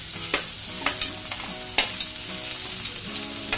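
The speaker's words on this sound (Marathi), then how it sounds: "आता ॲड करूया छान बारीक चिरलेल्या भाज्या." Finely chopped green, red and yellow capsicum with beans stir-fry in a hot pan for Schezwan fried rice, a constant sizzle punctuated by regular spatula taps and scrapes, close and clear with no talking.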